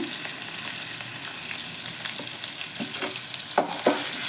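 Mustard seeds, cumin, chana dal, green chili and asafoetida sizzle in hot oil, a dense, steady crackling fry heard up close with a few sharper pops near the end and no speech.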